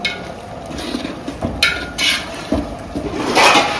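Raw rice being washed and swirled by hand in water for chicken biryani, with repeated sloshing, splashing bursts and light clinks of the vessel, close and fairly loud, with no talking.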